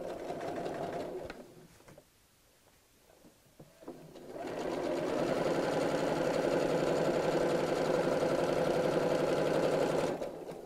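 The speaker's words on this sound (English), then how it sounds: "I'm just going to sew straight across there on my sewing machine." A sewing machine stitches in a steady mechanical whir, briefly pausing early on, then running continuously and close for several seconds.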